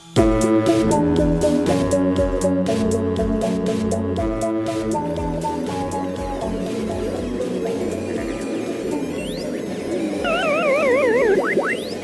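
Chiptune-style arcade video game game-over jingle of bleeping electronic tones, ending in a burst of warbling descending zigzag beeps, loud and close with no talking.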